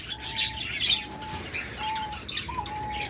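Caged doves, diamond doves, lovebirds, cockatiels and budgerigars fill a bird shop with busy chirps and tweets, while a clear whistled note repeats several times over the chatter.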